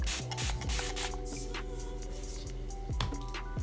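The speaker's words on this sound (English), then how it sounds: "I'm still just gonna spray the roots a little bit" A spray bottle hisses in a few quick bursts onto hair roots while removing faux locs, close by, with soft rubbing and handling noises between sprays.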